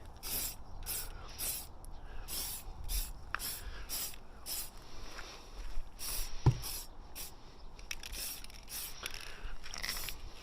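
A spray can lays a white coat onto a Tamiya TT02 RC car body, sounding as a quick series of short, close hissing bursts separated by brief pauses, with faint handling noises between them.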